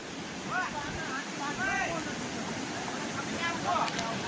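Floodwater rushes through a farm in Abdasa, Kutch, during monsoon rains, a constant broadband roar that stays steady throughout while someone talks over it.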